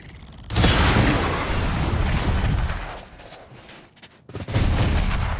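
Gunfire in the video game Valorant, loud close bursts of shots in quick succession, a brief lull, then another heavy burst.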